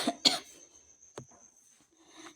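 Dry coughing from a person with a sore throat, two quick harsh coughs followed by a single sharp cough and a softer throat sound, close and loud in a quiet room.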